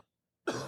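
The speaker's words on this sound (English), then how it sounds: "my cough is more or less the same sounding every time, regardless of how like harsh it is" A single harsh cough bursts out after a moment of silence, loud and close, with a rough throaty texture trailing off.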